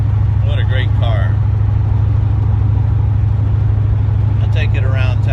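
A 1986 C4 Corvette with 43,000 miles cruises with its engine holding a steady, loud low drone throughout. Someone talks briefly near the start and again at the end.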